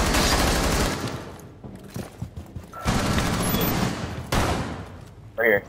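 Gunfire in a multiplayer shooter game: dense, loud bursts of rapid shots come in several waves with short gaps between them, and a voice speaks over the firing.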